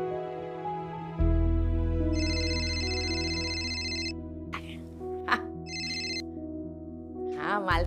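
A telephone rings unanswered over a low, steady background hum, in two warbling bursts, a long one and then a shorter one, with brief voice-like sounds and clatter between and near the end.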